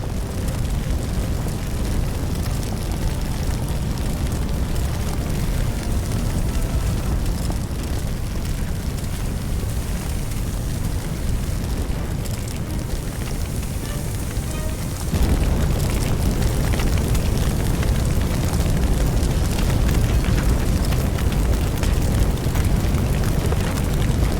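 In a firefighting video game, fire in a room gives a steady broadband roar and crackle across the whole stretch, stepping louder about halfway through, with no voices.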